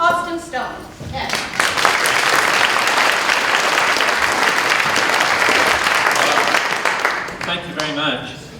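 Loud applause from a gathered audience greeting someone, son of a playwright and novelist. The clapping swells and holds steady for several seconds, then fades as a voice comes in over the tail.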